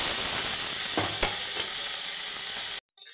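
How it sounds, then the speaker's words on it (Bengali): More fish frying in hot oil in a wok gives a loud, dense sizzle with a few brief crackling pops, then stops suddenly near the end; nobody speaks. "বাকি মাছগুলো দিয়ে দিলাম।"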